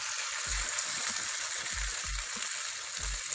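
Saltfish fritter batter dropped into hot oil in a pot, a constant near hiss of frying oil with soft low thumps every half second or so, no talk.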